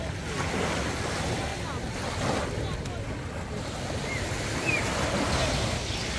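Small waves lap and wash on a little beach at Lake Como, with steady surf and wind buffeting the microphone at moderate loudness.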